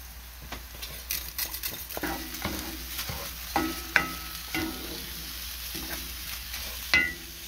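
Green onions sizzling in a pan with garlic salt and parsley for Colombian arroz paisa, a soft crackling fry broken by repeated utensil stirs and clinks against the pan, close and fairly quiet.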